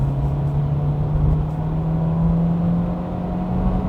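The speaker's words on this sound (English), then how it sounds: "Let me just put the car into sports mode and just let you hear a little bit." A car engine in sports mode hums at a steady, loud drone, rising slightly in pitch as it revs, with no talking over it.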